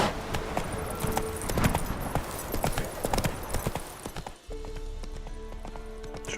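Hooves clip-clop in a fast, busy rhythm as a horse gallops through a video game world, with a brief whinny-like texture near the start; the hoofbeats stay loud and close before cutting to a steadier passage.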